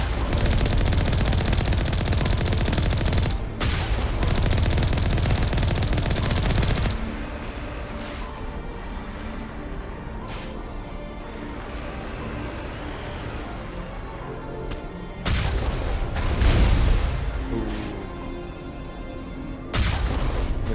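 Missile launchers fire in the video game Mass Effect, with dense, loud bursts of rapid explosive gunfire and booms, easing into a quieter rumbling stretch before heavy blasts return.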